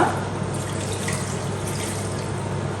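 Water streams steadily from a tap into a cooking pot while couscous is prepared at home, a close, continuous pour with no talking.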